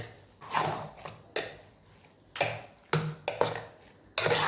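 A spoon stirs mashed curd rice with milk in a metal pot or bowl. It makes several separate scraping, clinking strokes in an uneven rhythm, close by and fairly quiet, with short pauses between them.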